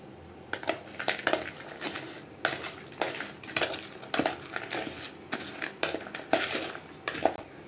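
Lays corn bhel is tossed with chili flakes, oregano and lemon in a bowl, giving a close run of crisp, crunchy rustles and scrapes in an uneven rhythm.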